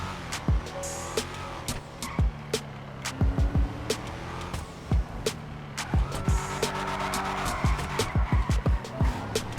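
The Drift Yosemite in GTA 5 slides through drifts, with repeated sharp tire skids and squeals cutting over a steady engine note, coming in irregular clusters, close and loud, without talk.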